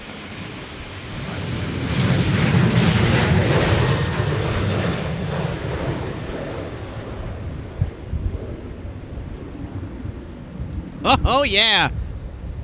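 A deep, rumbling jet airliner roar builds and swells in the distance at Minneapolis–St. Paul Airport, runway 22, broad and steady, with a brief burst of voice near the end.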